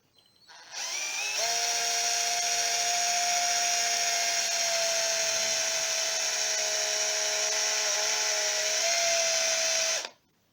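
Aldi Workzone 18V cordless drill spinning a wire wheel under overload, a steady high-pitched motor whine held for about nine seconds, close and unbroken, starting and stopping abruptly.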